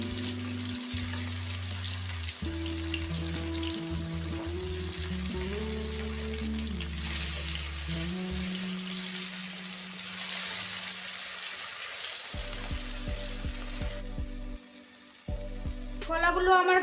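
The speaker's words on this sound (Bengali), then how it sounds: "কলাগুলো খুব ভালোভাবে ভেজে নেব।" Green banana pieces frying in hot oil in a pan, giving a steady soft sizzle throughout, with a faint background hum and a few quiet clinks near the end.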